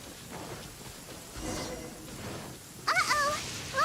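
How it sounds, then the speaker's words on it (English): A thunderstorm with rain in the video game Genshin Impact gives a steady hiss of rainfall with a swelling rumble, while a voice talks over it. "Uh-oh! Lightning storm!"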